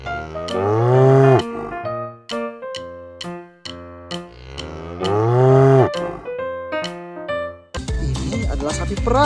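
A toy cow gives out electronic moos, two long loud lowing calls broken up by sharp clicks and beeps, with a burst of noise at the end.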